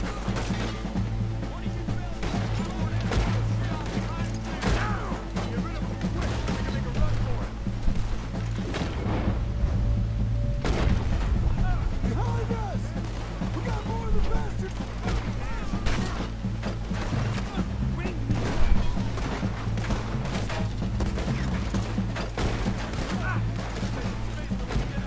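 Gunfire in the video game Red Dead Redemption 2, scattered shots and bangs rattling out over a low background score, while players talk over the action.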